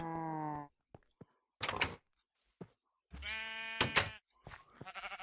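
Sheep bleat in a Minecraft Agrarian Skies modpack pen: several wavering, nasal bleats mixed with short clicks and knocks, moderately faint, no speech.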